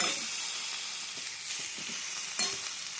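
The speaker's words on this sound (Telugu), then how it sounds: "ఇలా చికెన్ వేసి బాగా కలపండి." Chicken pieces sizzle steadily in a hot pan for curry, a dense close hiss with faint stirring knocks and one brief louder stir near the end.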